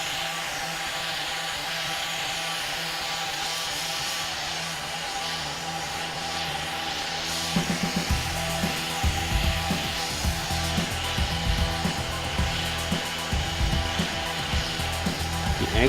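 A brazing torch flame roars steadily and loudly for about sixteen seconds, a constant broadband hiss with no talk, and rougher crackling texture entering partway through.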